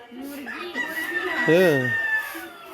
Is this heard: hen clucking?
yes